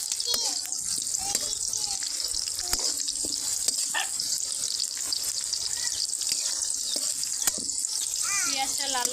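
Chopped onions fry in a generous amount of oil for a cauliflower bhaji, a steady dense sizzle that runs loud and continuous throughout, with occasional sharp clicks from stirring and children's voices in the background.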